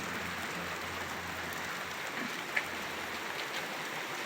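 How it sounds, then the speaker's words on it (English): Steady rain falls outdoors on an early morning, a soft continuous patter with a single brief tap partway through, no voices. "It's rainy. You probably see it."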